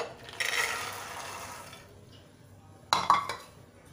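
Dried peas tipped into a pressure cooker for pani puri, heard as two bursts of hard clattering, a longer rattling pour first and then a sharper clinking spill near the end, with no talk.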